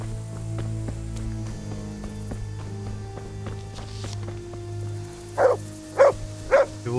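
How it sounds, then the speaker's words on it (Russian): Three short barks from a dog in the medieval game Kingdom Come: Deliverance ring out near the end, each clear and evenly spaced, over a steady droning game ambience. "Чего лает?"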